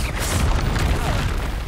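A Bombarda blast spell going off in the video game Hogwarts Legacy, a loud, deep, rumbling boom that fills the whole moment with a sustained explosive roar.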